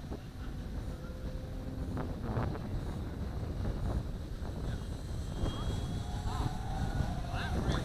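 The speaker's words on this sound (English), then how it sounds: "And I love the way this plane sounds in the air." An E-flite Carbon Z Cub radio-controlled model plane's engine drones steadily as it flies past, buffeted by wind noise on the microphone, with no talking.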